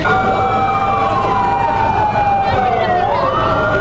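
Fire trucks and ambulances race to a rescue scene, with wailing sirens sweeping up and down continuously and loud over a steady engine rumble, with faint background voices.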